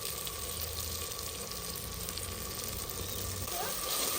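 Onion, tomato and chili masala frying steadily in a pan outdoors for a chicken karahi, a continuous even sizzle held at close range with no talking.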